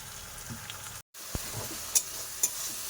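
Ground spices with turmeric and chili powder sizzle steadily in a hot pan, with a few clinks of a spoon stirring through the frying.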